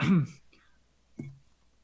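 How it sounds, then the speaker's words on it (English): A person clears their throat: a short, gruff burst followed a second later by a softer second rasp, close and quiet. "So I clear my throat"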